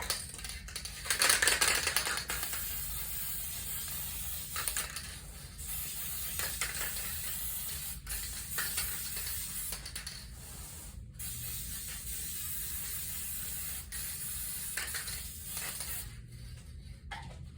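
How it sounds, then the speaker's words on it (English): Spray adhesive hisses onto the sides of upholstery cushion foam in a series of sharp bursts, the strongest early on, then several shorter sprays with brief gaps, all close and fairly loud. "So now you're just going to spray the sides."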